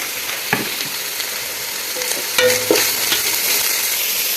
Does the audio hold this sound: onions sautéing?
yes